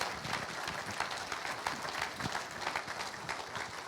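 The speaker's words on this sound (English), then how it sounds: "Let's give Paul and Mary Jean another round of applause" A theater audience applauds guests Paul and Mary Jean at a talk with John Landis and Mary Eisenhower, fairly distant, even applause that continues throughout with no talk over it.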